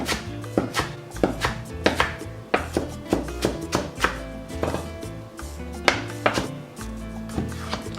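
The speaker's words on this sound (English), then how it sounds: "I'm gonna start by cutting off the bottom part of the cilantro." A knife chops a whole bunch of cilantro on a cutting board in a series of crisp, close, irregular knocks, some evenly spaced and some in quick bursts, with no talking.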